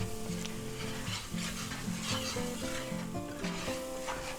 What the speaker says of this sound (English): Now we're going to cook that flour taste off.